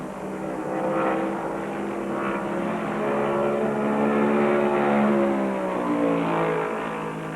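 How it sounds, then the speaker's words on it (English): Plymouth stock car racing at the 1971 Daytona 500, a loud engine roar with rising and falling pitch as the car passes, accompanied by other cars on the track. "Hamilton's Plymouth roars into the lead."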